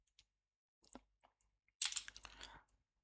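Computer keyboard typing while entering test class code, with a few scattered key clicks followed by a denser burst of quick keystrokes, close and fairly quiet.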